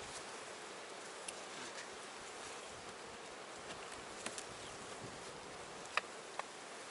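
Honeybees hum softly around an open hive frame during a beekeeper's inspection, a steady low buzz with a few individual bees passing close by in brief louder bursts.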